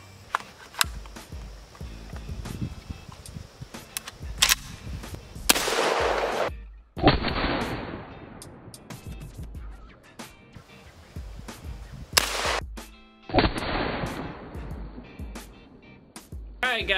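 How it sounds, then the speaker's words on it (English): SDS Imports Lynx 12 AK shotgun firing at 2-liter bottles downrange, several sharp loud blasts with long decaying echoes, spaced apart and interspersed with scattered clicks and handling noises. "Alright, so a good shotgun video wouldn't be complete without some 2-liter shooting"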